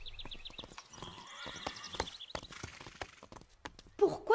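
Pepper the horse whinnies agitatedly in a soft, high, wavering call, with scattered hoof knocks and shuffling around it and a sharper burst near the end.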